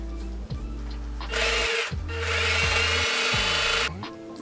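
A sewing machine runs in loud, steady bursts, stitching over elastic on a fabric face mask, with brief pauses and clicks between runs.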